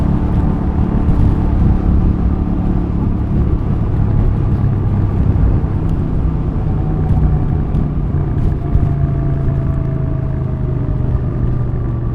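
A Royal Enfield Super Meteor 650 motorcycle on a test ride gives a steady, loud engine drone under heavy wind buffeting. The sound holds level throughout, with no one speaking.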